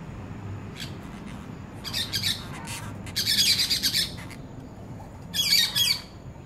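A pet parakeet squawks and chirps in several harsh, shrill bursts, close and loud, separated by short quieter gaps, with no talk over it.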